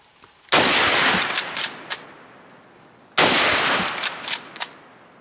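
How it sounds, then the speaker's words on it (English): Two loud, close gunshots from a Chinese Type 53 Mosin Nagant rifle, a few seconds apart, each a sharp blast with a ringing decay and small metallic echoes after it. "So we'll fill it up here real quick and take a few shots."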